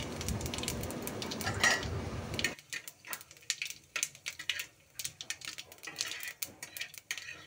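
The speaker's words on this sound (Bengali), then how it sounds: "এবার আমি ওই একই তেলে অ্যাড করে দিচ্ছি ফোড়ন, দুটো ছোট এলাচ, তেজপাতা আর সাদা জিরে।" Whole spices (green cardamom, bay leaf, cumin seeds) sizzle loudly in hot oil for a few seconds, then the hiss stops and light metallic clinks of stirring follow.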